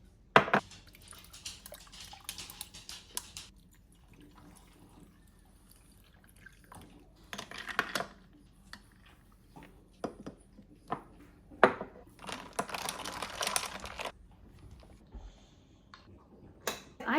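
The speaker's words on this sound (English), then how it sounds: "I'm so sorry if all you've heard is Gigi breathing and licking." Dogs lick at bacon grease on a kitchen floor and around a trash can, giving soft, scattered wet licks and drips with quiet pauses, close and faint, with no talking.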